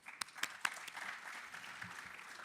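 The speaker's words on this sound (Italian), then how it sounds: "Grazie, un applauso." An audience at an Italian regional conference on public-administration IT planning applauds briefly, a soft, fairly distant wash of clapping with a few sharper claps standing out early before settling into a steady patter.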